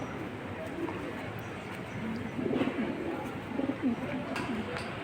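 Pigeons coo at a pigeon market, soft rolling coos rising in the middle and lingering over a murmur of background noise.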